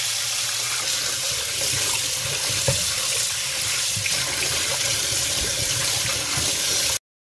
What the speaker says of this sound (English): I'll wash them first.